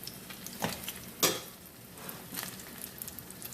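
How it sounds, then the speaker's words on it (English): Rustic side dish for salmon sautéing in oil in a pan, a soft steady sizzle with a few sharper stirring clatters, fairly quiet and without talk. "so let them fry a little bit, or saute,"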